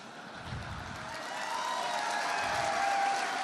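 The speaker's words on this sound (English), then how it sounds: "President Trump's remarks were met by applause, including police officers who were just standing just behind him" Applause from an audience, including police officers standing nearby, greets President Trump's remarks, a steady wash of clapping that swells gradually and holds at moderate loudness.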